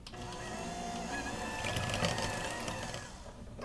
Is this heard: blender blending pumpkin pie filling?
yes